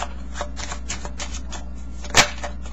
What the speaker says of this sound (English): So just give it a quick shuffle.